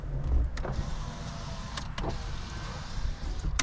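Power window motor inside the door of a 2004 Honda CR-V, whirring steadily for several seconds at close range, with a faint click at the start and a thunk near the end as the glass reaches its stop.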